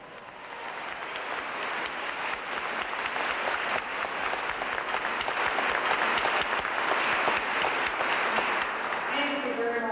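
Audience in a concert hall applauds, the dense clapping building gradually from quieter to fuller and continuing steadily, with a voice emerging faintly at the end.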